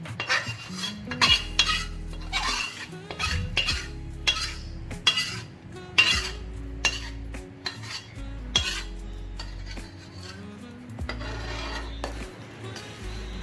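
Flour and dry fruits being stirred and roasted in a pan for urad dal ladoo, with repeated scraping and clinking of a utensil against the pan at a steady rhythm, close and fairly loud, with no talk.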